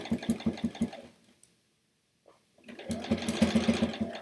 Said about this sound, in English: As I get my ring caught in my sewing machine.